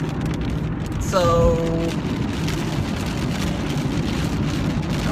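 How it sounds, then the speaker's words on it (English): Rain falls steadily as a dense, continuous hiss, with a voice briefly speaking over it. "now it's raining harder"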